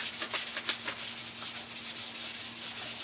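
Hand sanding on an E-Flite Carbon Z 150 model airplane, rhythmic back-and-forth rubbing strokes, close and fairly loud, with no talking.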